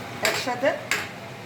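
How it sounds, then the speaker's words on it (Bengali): Broccoli and carrot being stirred into browned meat in a pan: a few brief metallic scrapes and clatters of a spoon against the pan, close and fairly loud, with no talking. "একসাথে ব্রোকলি আর গাজরটাকে নিয়ে আবার মাংসের সাথে কষাবো"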